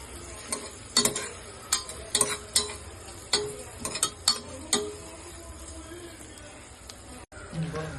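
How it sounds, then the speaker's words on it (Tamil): Biryani masala powders and onions being sautéed in a pan for chicken biryani: repeated spoon scrapes and stirring knocks over a low steady sizzle, with a few louder clanks spread through the stir. "ஆனியனோட சேர்த்து 2த்தையும் நல்லா வதக்குங்க."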